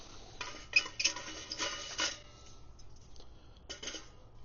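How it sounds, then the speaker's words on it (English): Light metallic clinks and rattles of a Solo Stove twig-burning camp stove being handled after coming out of its nylon drawstring sack, several small close taps and scrapes. "take the stove out"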